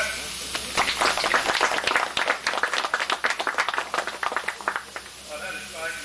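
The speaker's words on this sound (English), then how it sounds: "So can we give him a clap?" Audience at a model engineering society birthday gathering at Galston Valley Railway breaks into applause, a dense burst of many hands clapping that rises quickly, then thins into scattered claps and fades.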